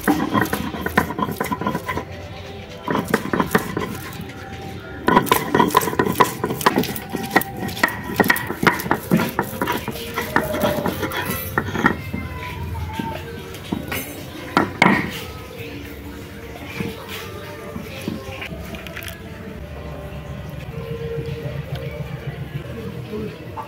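Thankuni leaves being ground into a paste by hand on a stone, with steady scraping and knocking strokes in uneven bursts, some louder than others, continuing throughout.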